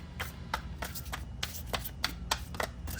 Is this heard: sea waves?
no